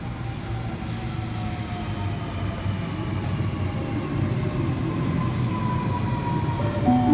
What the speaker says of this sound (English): We have a City Circle service approaching platform number 1.